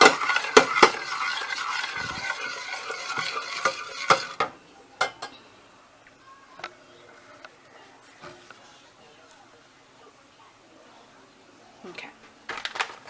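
Cheese being stirred into macaroni and cheese in a pot, with scraping and clinking of a utensil against cookware, busier at the start and end and quieter in between, with brief talk.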